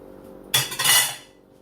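A metal utensil clinks and scrapes once against a pot while mac and cheese sauce seasoned with black pepper, paprika and salt is stirred, a short close clatter that fades quickly.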